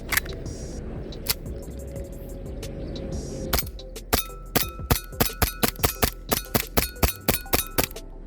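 WE Kimber 1911 airsoft pistol firing at a glass Alfonso bottle, a steady run of about a dozen sharp snapping shots with metallic clinks after quieter handling and clicking, close range.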